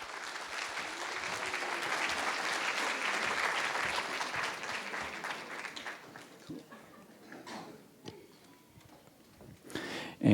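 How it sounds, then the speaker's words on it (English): Audience applause at a winter choir concert, warm clapping for several seconds, gradually thinning out into scattered claps and quiet murmurs. "Want to give those guys a special round of applause for their extra time."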